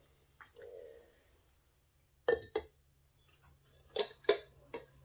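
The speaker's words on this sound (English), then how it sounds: "you pick it up and set it on your table like that" A ceramic butter dish, glaze-fired pottery with a side ledge for a butter knife, is handled on a table, giving a few separated clinks and knocks of glazed clay against a hard surface, fairly close, with no talk.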